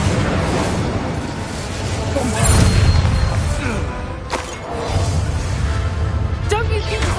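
Fiery spell blasts from Hogwarts Legacy boom and crackle through a busy combat scene, with a couple of sharp bursts standing out over steady rumbling background.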